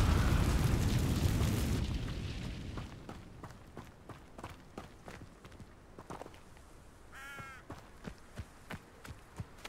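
In Hogwarts Legacy, the Incendio fire spell opens with a loud roaring burst that fades over about two seconds. Scattered footsteps follow, along with a brief whooshing tone near the end.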